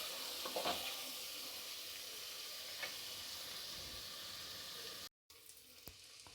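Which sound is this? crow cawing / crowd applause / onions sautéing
onions sautéing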